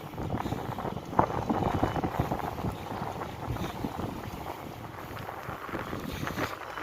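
Headwind buffeting a microphone while cycling a rural road in Tarlac, Philippines: continuous rough rumbling gusts that swell and ease, loud and close, with no talk.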